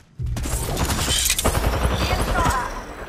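Gunfire in Rainbow Six Siege, a sudden loud burst of rapid automatic shots with clattering mechanical noise, close and sustained for about three seconds, no voices over it.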